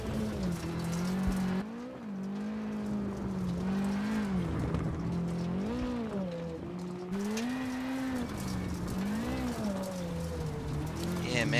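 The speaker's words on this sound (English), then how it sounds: "I'm just making a wheel spin" A rally car spins its wheels in too low a gear on a gravel stage of Rally Mexico in the WRC 7 video game, its engine droning steadily and close with a wavering pitch throughout.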